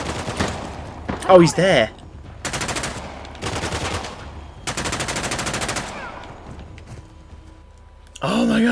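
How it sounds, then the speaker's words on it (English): Bursts of automatic gunfire crackle in the Uncharted: The Lost Legacy video game, several separate rattling volleys of a second or so each with short quiet gaps, while a player speaks briefly over them. "I'm confused about the direction of some of these bullets"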